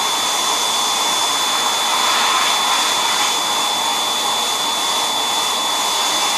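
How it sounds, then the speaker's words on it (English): A sandblaster blasts paint off a surface with a white base coat beneath, producing a loud, continuous rushing hiss that holds steady throughout with no voices. "You guys that have sandblasters can also tell me if this sandblaster is working properly."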